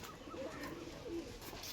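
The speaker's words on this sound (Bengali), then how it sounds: "কালার দেখুন পায়রাগুলো," Domestic fancy pigeons of prized colour varieties coo softly in low repeated calls, faint and at a moderate distance over a steady background hum, with no voices.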